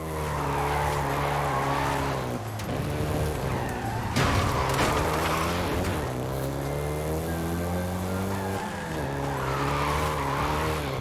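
Volkswagen Golf GTI driven in Forza Horizon 5, its engine droning steadily with rising and falling revs as tires screech through skidding turns, loud and close throughout.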